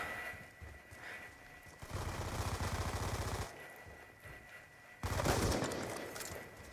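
Bursts of rapid automatic gunfire in a first-person shooter game, heard as dense, loud, sustained rattling in two long stretches over quieter game background noise, with no talking.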